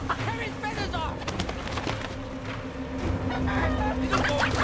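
Chickens at a cockfight in the video game Sleeping Dogs cluck and squawk continuously amid a noisy crowd, with voices and bustle throughout and the birds fairly close.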